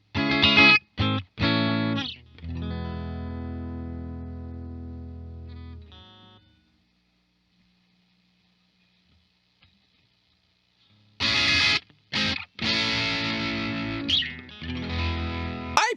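An electric guitar plays through a Boss DS-1 distortion pedal, with fuzzy driven strums and a ringing chord that decays into several seconds of near silence before more distorted strums and sustained chords return.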